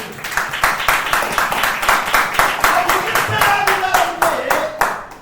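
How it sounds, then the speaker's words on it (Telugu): A church congregation claps in steady, rhythmic unison during a Sunday service. The loud beats run throughout, and a voice rises over them toward the end. "చప్పట్లు కొట్టు ప్రభు"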